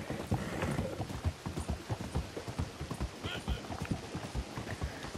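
A horse's hooves clip-clop in a steady, fairly quick rhythm of close, distinct knocks, moderately loud, with light rain and faint mechanical noise behind and no voices.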